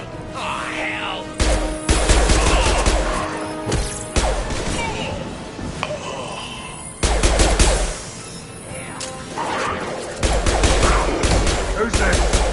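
Heavy gunfire rattles through a Mass Effect firefight, coming in loud sustained bursts with short pauses between them, mixed with mechanical weapon clatter and impacts. Voices speak in the background.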